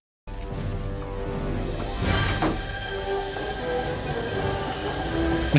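The flying time-machine train from Back to the Future Part III rumbles and rattles steadily, with a hissing swell partway through and a faint squeal of wheels; no one speaks.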